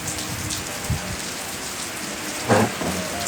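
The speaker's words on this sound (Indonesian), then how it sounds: "Hujannya makin deras teman-teman." Heavy rain pours steadily at a public cemetery, a dense continuous hiss with a couple of louder thumps and splashes nearby, no one speaking.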